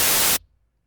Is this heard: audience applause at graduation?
no